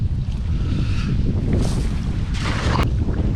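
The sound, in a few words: strong wind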